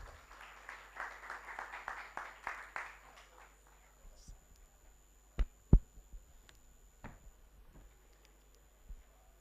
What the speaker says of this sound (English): kindly a round of applause as Alois Rukundo makes his way to the stage